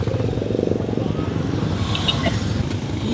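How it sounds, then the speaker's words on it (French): A motorcycle tuk-tuk in the Philippines labours with a steady, close engine drone that strains under load, while voices talk over it. "La moto a du mal, la moto a du mal."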